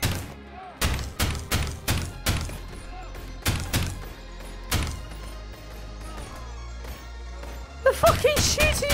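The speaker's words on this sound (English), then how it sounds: "They're fucking shooting each other!" Gunfire from characters shooting each other in a modded video game crackles in quick bursts of sharp, punchy shots, loud and close, separated by short gaps, with a speaking voice in the background.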